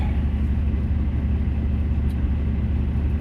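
Steady low rumble of an old, beat-up pickup truck cruising, heard from inside the cab, with continuous engine drone and road noise and no talking.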